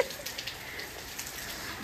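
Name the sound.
rain falling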